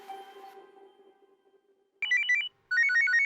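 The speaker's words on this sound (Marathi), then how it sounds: "फोन येतोय. परत?" A mobile phone ringtone plays two bright, loud bursts of repeating electronic melody, separated by a short pause, following a fading lower tone at the start, with no talking.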